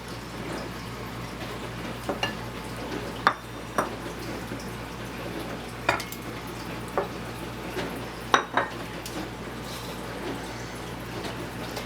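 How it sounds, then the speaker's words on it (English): Wet cake batter ingredients are mixed in a bowl, with soft liquid stirring under steady background hum and occasional sharp clinks of a utensil against the bowl. "now I'm going to go ahead and combine the wet ingredients and then mix it for 2 minutes."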